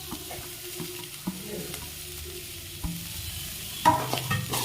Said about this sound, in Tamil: ஆட் பண்ணிவிட்டு அதையும் நல்லா வணக்கிடுவோம்.